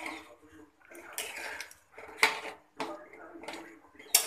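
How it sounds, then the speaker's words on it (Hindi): A spoon scrapes and clanks against a pot while ground onion is stirred into chicken korma, giving irregular metallic knocks and wet mixing bursts at close range. "अब हम इसमें डाल देते हैं प्याज को जिसे हमने पीस लिया है, और इसे भी मिक्स कर लेते हैं अच्छी तरह से"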